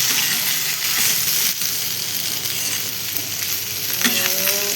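Garlic, lentils and cumin sizzle in hot oil as a tempering, producing a loud, dense, continuous hiss with small crackles and a few stirring clinks close by.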